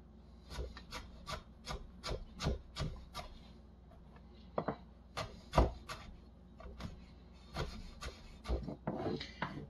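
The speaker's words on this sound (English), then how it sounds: "if you're cutting ginger and you've never cut ginger, I gotta tell you, it is very fibrous and it is not the easiest to cut" A knife cuts through fibrous fresh ginger on a wooden board in a series of close, distinct rasping strokes, steady at first, then briefly pausing before more irregular cuts resume.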